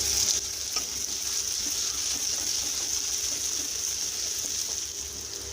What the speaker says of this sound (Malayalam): 1 സ്പൂണ് ജിഞ്ചർ ഗാർലിക് പേസ്റ്റ് ഇടുകയാണ്. ഇനി ഇത് നല്ലോണം ഒന്ന് മൂത്ത് വരണം